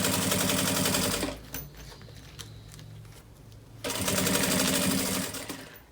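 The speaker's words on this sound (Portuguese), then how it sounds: "encaixo bem certinho e costuro aqui para dar o acabamento" Sewing machine stitching bias binding onto the edge of a zippered roll-up toiletry pouch, running in two loud, steady buzzing bursts at the start and end with a quieter pause of fabric handling in between.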